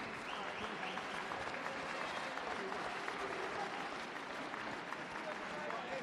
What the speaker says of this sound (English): let's please have a round of applause for both boxers.